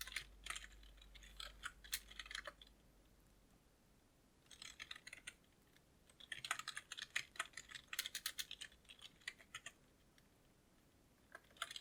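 Typing on a computer keyboard while writing a Roblox script, quiet close key clatter in uneven bursts separated by short pauses.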